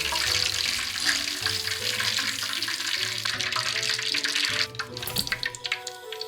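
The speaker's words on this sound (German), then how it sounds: "Ca. 2 bis 3 Minuten frittieren, bis sie golden sind." Pork strips deep-frying in hot oil for sweet-and-sour pork, a dense, steady bubbling sizzle under a continuous musical background, thinning into scattered crackles near the end.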